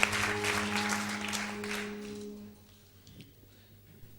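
A studio audience at a televised mugham poetry contest applauds, a dense, bright clapping wash with a steady hum underneath that fades out after about two and a half seconds, leaving faint room noise.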